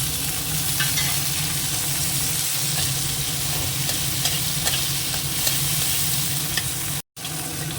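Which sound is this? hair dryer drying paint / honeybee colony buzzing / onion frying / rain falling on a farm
onion frying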